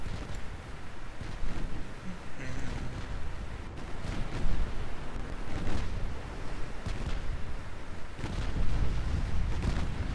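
Warship shell hits and gunfire in the Ultimate Admiral Dreadnoughts naval battle game, a dense, loud rumble of heavy booms and blasts rolling continuously without a break.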